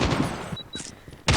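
Short bursts of gunfire in Call of Duty Mobile, a few quick volleys of shots with a gap between them, fairly loud against quieter game ambience.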